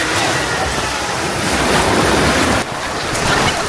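Loud, steady roar of surf crashing close by on a Boracay shore, broadband and continuous with wind buffeting the microphone; no voices.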